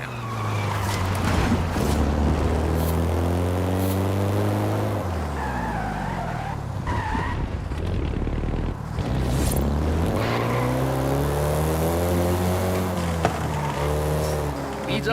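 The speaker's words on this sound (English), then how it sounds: "the Golf GTI you're driving right now" Volkswagen Golf GTI driven in the racing game Forza Horizon 5, a steady engine note rising and falling through gear changes with tyre noise, continuous and close throughout.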